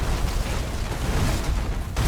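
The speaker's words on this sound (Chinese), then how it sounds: "爆炸了" Explosions in the space strategy game Battlefleet Gothic 2, a dense, continuous low rumbling blast with broadband crackle, loud and close throughout.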